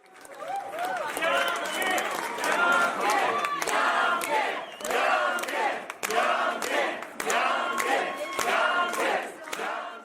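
A crowd of political campaign supporters cheering and whooping on election night, loud overlapping voices and shouts in rolling surges, with speech mixed into the din.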